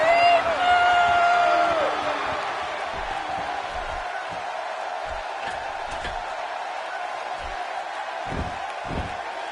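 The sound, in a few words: arena crowd in WWE 2K16 video game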